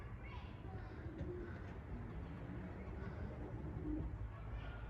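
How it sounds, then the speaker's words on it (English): Racing pigeons out flying at twilight after sunset, giving faint soft coos amid a low steady outdoor rumble, with a voice talking quietly in the background. "My birds are still out flying."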